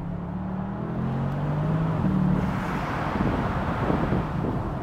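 Bentley Continental GTC convertible driving in sport mode, a low engine drone that rises as the car pulls through the gear, mixed with heavy wind and road rumble from inside the open cabin.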